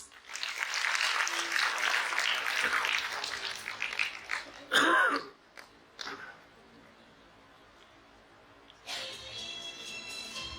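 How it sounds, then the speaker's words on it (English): Applause at a kindergarten day event, a crowd clapping loudly for several seconds before it thins out, then a brief loud burst of noise near the microphone and quieter room sound after. "Let's give a big round of applause."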